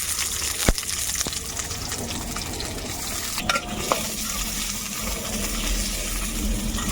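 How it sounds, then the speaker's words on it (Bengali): Onions fry in oil in a wok for chicken biryani, a continuous soft sizzle with occasional stirring scrapes and clinks of a utensil against the pan. "প্রথমে আমি পেঁয়াজটাকে ভেজে নেব।"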